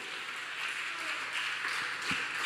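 A church congregation applauds in a steady, sustained wash of clapping that stays at an even level throughout.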